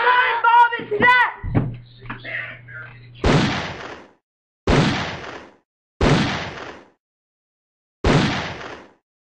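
Four loud, booming explosion sound effects land one after another at spaced intervals, each a sharp blast decaying into silence. Shouting voices come before them.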